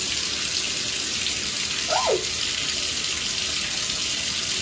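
Tap water runs steadily into a bathroom sink, a loud continuous hiss filling the whole stretch, with one brief rising-and-falling squeak partway through and no talking.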